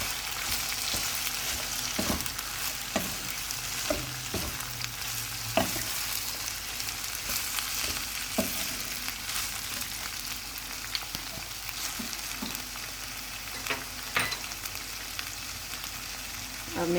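Garlic chicken with vegetables being stirred in a hot pan, a steady low sizzle punctuated by sharp spatula knocks and scrapes at irregular intervals, close and moderately quiet, with no speech.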